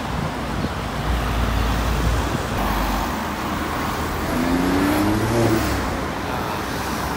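A Ferrari SF90 hybrid sports car passes in Geneva street traffic, its engine a low steady drone that swells slightly midway beneath general roadway noise, moderately close with no voices.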